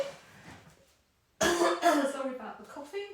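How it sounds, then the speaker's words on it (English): Quiet talking, a short pause, then a sudden burst of several harsh coughs close by, trailing off into throat noises. "Sorry about the coughing."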